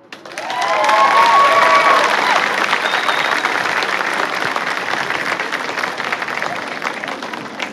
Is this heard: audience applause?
yes